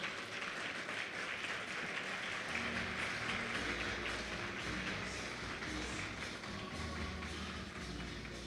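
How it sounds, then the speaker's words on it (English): Audience applause welcoming a speaker at a youth weekend event in the Northern Cape, steady dense clapping throughout with a low rumble underneath, moderately distant and continuous. "Let's please welcome him with a warm round of applause."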